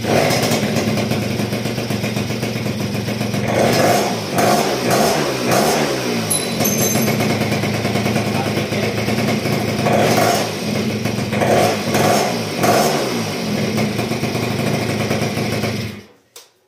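A Vespino moped engine runs with a buzzy two-stroke idle, revving up several times in bursts before settling, then cuts off abruptly at the end.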